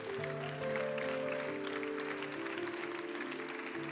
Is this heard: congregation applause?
yes